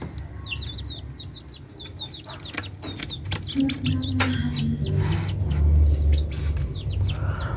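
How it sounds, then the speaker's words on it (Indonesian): A chicken clucks close by near a hatching Muscovy duck nest, a series of quick repeated clucks and chirps over rustling and low background rumble, growing louder toward the end. "Nah, ini ada ayam yang mendekat, kita singkirkan dulu."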